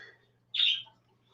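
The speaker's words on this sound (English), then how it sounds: "Okay, sorry about the birds." A single sharp bird chirp rings out on a morning, brief and fairly close, with faint quieter calls before it against a low steady hum.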